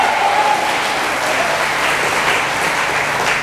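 A church congregation at a Saturday service in Hong Kong breaks into loud, sustained applause, a close and dense wash of clapping hands that continues without pause.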